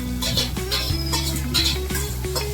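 Green onions stirred in a pan for brinjal bharta, with steady scraping and clinking of a spoon against the metal and a soft sizzle throughout, close and fairly loud, no talking.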